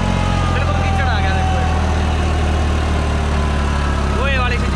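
A New Holland 3630 tractor engine runs steadily while driving through mud, a loud, constant low diesel drone close by throughout.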